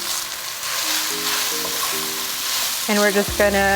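Sliced onion frying in a pan for Vietnamese banh xeo, a steady loud sizzle throughout, with a person talking over it and some musical tones near the end.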